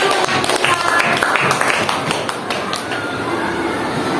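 A school class claps together in a steady burst of applause, close and lively, fading slightly toward the end.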